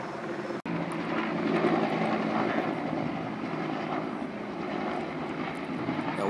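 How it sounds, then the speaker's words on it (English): A firefighting water helicopter's steady rotor and engine drone fills the air over a fire, loud and continuous, with no talking. "Water helicopter"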